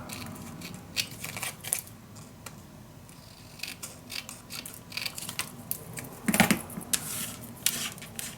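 Paper being cut with scissors while making a Stamperia Grand Hotel mini album, heard as a run of soft, close snips and rustles with brief clicks, one louder crunch near the end, and no talking.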